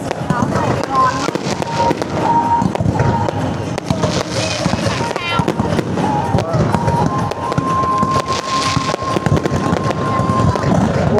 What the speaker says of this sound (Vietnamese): Pháo hoa hôm nay bắn cực tuyệt vời luôn.